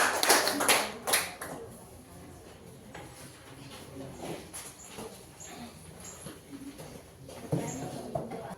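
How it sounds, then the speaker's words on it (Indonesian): A classroom group gives brief applause for a presenting student group, a short burst of scattered clapping up close that fades into light taps and murmuring voices. "kita beri aplaus untuk kelompok 1 dulu"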